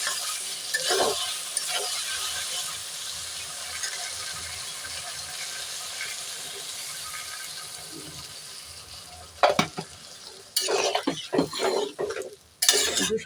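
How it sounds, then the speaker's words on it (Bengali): Water poured into a pan of spiced cucumber and shrimp curry (village Bengali shrimp-cucumber rasa), with steady sizzling and stirring, then several sharp louder splashes and clatters near the end as the spice bowl is rinsed in. "মশলার বাটির মধ্যে যে মশলাগুলো লেগে আছে, তাই মশলার বাটিটা দিয়ে জল দিয়ে দেবো।"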